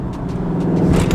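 A heavy 2019 Dodge Charger Scat Pack exhaust rumbling deeply and steadily from inside the car during a quick gear shift, a low continuous purr that swells slightly toward the end.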